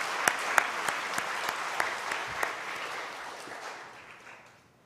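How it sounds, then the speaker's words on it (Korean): A church congregation applauds during a Sunday worship service, with steady clapping punctuated by a few sharper claps. It fades out toward the end. "다시 한번 큰 박수로 하나님께 영광 돌리겠습니다"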